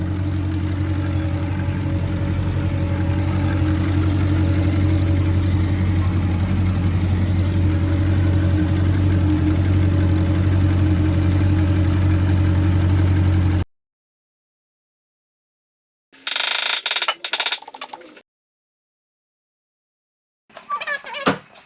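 An Audi RS5 B8 4.2 FSI V8 engine idles with a deep, steady rumble for several seconds, then cuts off; after a silence come a few brief knocks and rattles.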